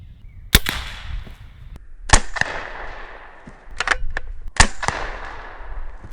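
Pinty P-Force air rifle firing pellets in a backyard plinking setting: three sharp, loud cracks spaced a couple of seconds apart, each with a short ringing tail and faint clicks of handling between them.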